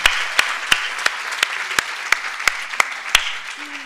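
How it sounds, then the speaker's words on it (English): At an engineering faculty's international event, an audience gives a speaker a round of applause, heard as a sparse, regular series of sharp claps over a soft hiss, as if only a few people are clapping. "let's give Prof. Sauter a warm round of applause."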